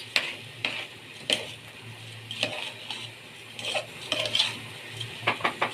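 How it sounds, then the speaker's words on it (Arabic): A spoon scrapes and clanks against a pot while rice and lentils are stirred and sautéed in oil with salt, producing irregular metallic knocks over a faint sizzle, close up with no talking. "هنزل بقى بالملح، وهشوحه بقى كويس كده مع الزيت"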